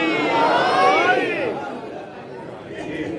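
A crowd at a Jashan-e-Milad religious gathering shouts the Naara-e-Haidari slogan, many voices rising loudly together, then fading into a lower murmur.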